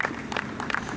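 Scattered applause from a crowd at a political speech, a short burst of clapping heard from a distance with no voices over it.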